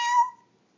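A child imitates a cat's meow in one short, clear, voiced call lasting about a third of a second, then silence.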